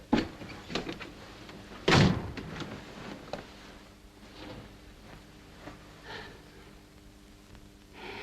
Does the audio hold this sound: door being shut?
yes